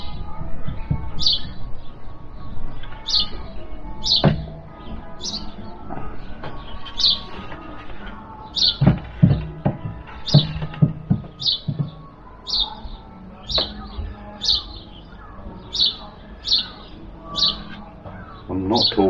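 Small birds chirping from a nest in a holly tree next door, a run of bright, sharp repeated tweets at a steady pace over a busy low background of nearby workshop noise.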